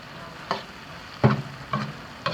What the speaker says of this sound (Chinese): 好，这样就再炒一下就可以了